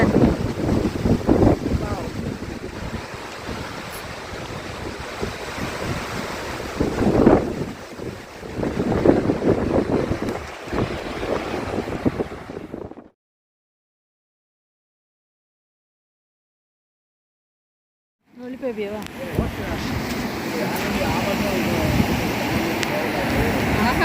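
Water pouring over Adavinainar Dam and rushing down its steps, a loud broadband roar mixed with wind buffeting the microphone and occasional voices, cutting out to total silence midway before the rush resumes.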